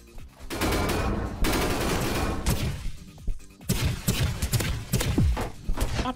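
Rapid automatic gunfire from a gun in the video game Energy Assault, loud, close bursts rattling almost continuously with brief gaps between volleys, over game background noise.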